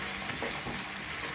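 Curry leaves and crushed dried chilli sizzle steadily in a hot pan while being stirred, for a Kerala pork and raw plantain roast. The frying hiss is close and continuous, with light stirring scrapes and no voices.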